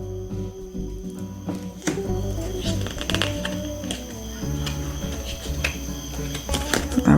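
Rapid riffling clicks of a small indie tarot or oracle deck being shuffled in bursts, close by, over a steady low hum and background music-like tones.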